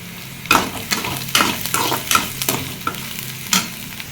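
Onions sautéing in a pan for drumstick leaf sambar, with a steady sizzle punctuated by repeated scraping stirs of a spoon against the pan, close and clear with no voices.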